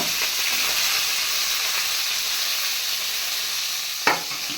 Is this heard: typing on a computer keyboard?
no